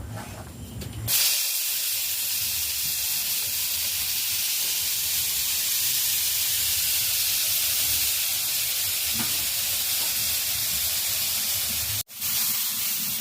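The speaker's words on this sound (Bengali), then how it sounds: "এবার আমি কুঁদলি আর আলুটাকে ভেজে নিব।" Potato and ivy gourd frying in oil in a pan for a vegetable egg chowmein, a loud hissing sizzle bursting in as the vegetables hit the oil, then holding steady and close, broken by one sharp cut near the end.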